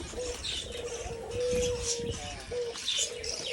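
Doves coo softly in low, drawn-out notes, repeated several times, with light chirps and a brief flutter of wings nearby.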